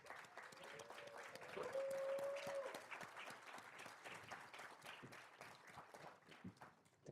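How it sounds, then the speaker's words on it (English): Applause fills a conference hall at a panel on African democracy, a steady wash of many hands clapping at a moderate distance, swelling early and then tapering off. "Please give him a round of applause."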